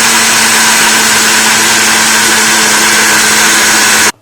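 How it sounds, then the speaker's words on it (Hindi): A blender motor whirs loudly and steadily with a constant high drone while grinding spices for a chickpea curry, then cuts off abruptly at the end. "ये जी हमने ब्लेंड कर लिए सारे मसाले को"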